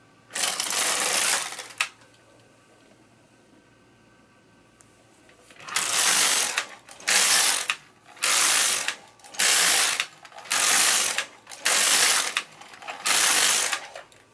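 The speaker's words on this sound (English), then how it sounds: "And I'm going to knit 8 rows." A knitting machine carriage is pushed back and forth at low tension to knit eight rows, giving a loud rasping pass followed by seven evenly spaced mechanical whirring sweeps with short pauses between them.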